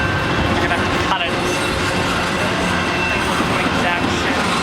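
A Canadian Pacific freight train rolls past at Pitt Meadows, a loud, steady rumble of wagons and wheels that fills the whole stretch, with a brief squeal and people talking over it.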